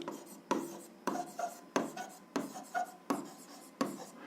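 Pen writing on paper while working an algebra exercise, a run of short scratchy strokes in regular bursts roughly every half second, close and quiet with no speech.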